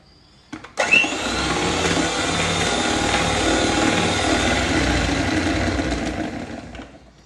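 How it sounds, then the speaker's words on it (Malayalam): An electric beater whirs steadily while beating eggs, sugar and half a tablespoon of oil into dream cake batter, starting with a few clicks, then a loud, even motor hum for about six seconds before winding down. "ഇനി ഇതിലേക്ക് 1/2 ടേബിൾ സ്പൂൺ ഓയിൽ ചേർത്തിട്ട് ജസ്റ്റ് ഒന്ന് ബീറ്റ് ചെയ്യുക"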